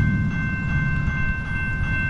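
CSX M404 freight train with a 1978 EMD SD40-2 locomotive rolls past, a loud, continuous low rumble and rattle of wagons with a steady high tone held above it.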